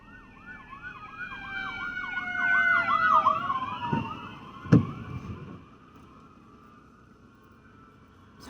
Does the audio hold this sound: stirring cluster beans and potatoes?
no